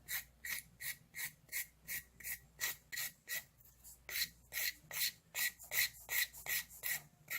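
Rhythmic rasping strokes of a nail file shaping gel nails, about fifteen even back-and-forth passes, close and steady with no talking.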